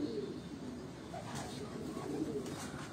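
A Sialkoti pigeon coos softly in low, repeated throaty notes, faint and close, with quiet background sound around it.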